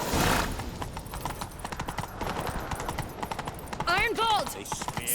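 Horse hooves clip-clop at a gallop in The Witcher 3, rapid and steady, with a horse neighing and a rider's shouts over the rhythm.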